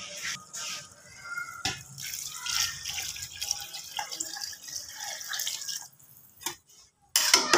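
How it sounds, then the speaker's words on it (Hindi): Water being poured into a pot of spiced rice already fried in masala, with a steady splashing and dripping wash that runs throughout, dips briefly near the end, then picks up again, with no talking. "हमने इसमें पानी डाल दिया।"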